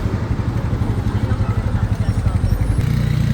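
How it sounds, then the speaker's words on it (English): A small motorized vehicle drives along a narrow footpath nearby, with a pulsing engine putter and some clatter that shifts in pitch near the end. "the footpaths at times are just barely wide enough for this motorized vehicle to get through"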